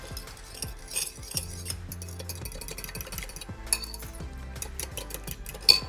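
A spoon gives steak and potato hash a final mix, with scattered clinks and scrapes of utensil against the cookware, quiet and irregular, with no voices.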